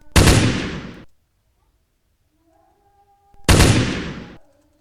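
Two sharp gunshot sound effects in a game under development, each a loud single blast with a short decaying tail, separated by about three seconds of near silence with a faint tone between.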